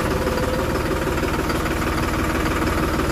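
A heavy tractor diesel engine idles steadily close by, with a continuous low throbbing knock and no voices.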